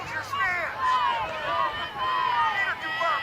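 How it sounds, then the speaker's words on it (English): A rowdy crowd at a Big Ten college softball game between Michigan and Northwestern, many voices shouting and calling out together in a steady, fairly loud swell that carries on without a break. "Crowd getting rowdy."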